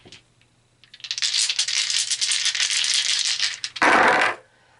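Tarot dice rattled and rolled, a close clattering burst of small tumbling hits followed by a sharper loud final shake and settle.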